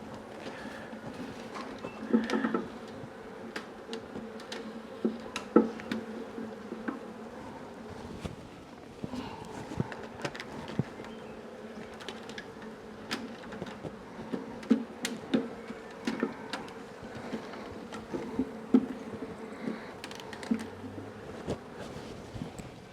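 A bee swarm buzzing steadily throughout a swarm extraction outdoors, a dense continuous drone with scattered clicks and knocks from handling, fairly faint and without talk.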